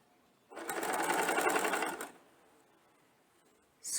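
Sewing machine stitching a lace strip onto a garment neckline, a loud steady mechanical whirr running for about one and a half seconds, then stopping, with a brief clunk at the end.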